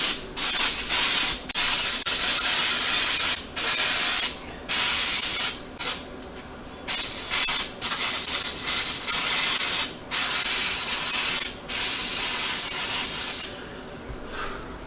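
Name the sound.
spraying brake cleaner to degrease seals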